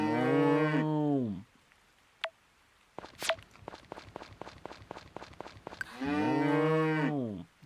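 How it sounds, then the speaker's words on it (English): Two long, loud cow moos from the farming game Friends of Mineral Town bracket a run of quick clicking steps and a few sharp knocks in between, close and clear. "That's what the cows sound like."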